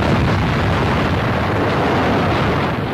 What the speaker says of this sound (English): Bursting anti-aircraft shells bring down a Nazi raider.